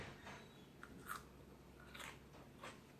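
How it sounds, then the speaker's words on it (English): Soft crunching of crispy food being chewed, several faint bites close to the mic in a quiet room. "Can you hear the crunch?"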